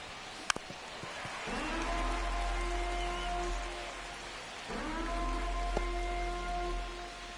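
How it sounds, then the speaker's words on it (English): Steady rain falls on a baseball field during a game, a broad even hiss with drops pattering close by, plus a low rumble and some tonal hum under it and one sharp knock. "the field's not going to be able to hold up if the rain gets any worse than this"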